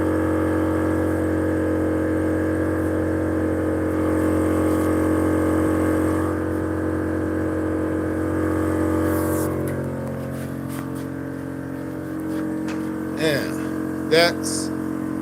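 Car engine idling steadily with strong low harmonic hum, then dropping off around nine seconds, followed by a couple of short sharp revs or clicks near the end; a voice speaks over it.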